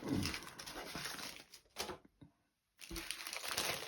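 A plastic bag holding sprues for a 1/35 scale Sd.Kfz 250/1 half-track model kit crinkles close by in dense bursts, stops during a brief silent gap, then crackles again.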